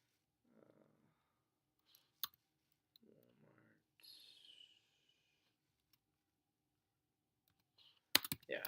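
Short bursts of computer keyboard typing, a company name entered into a search box, come in scattered clicks and taps amid pauses, with brief speech and a sharper noise near the end.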